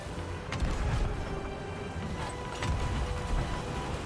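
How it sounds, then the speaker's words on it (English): Cannon fire from a tower in a sailing video game: a couple of deep booms land amid a rumbling, noisy sea-and-ship soundscape. "Heard another cannon."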